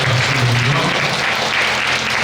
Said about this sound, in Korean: 박수를 드리며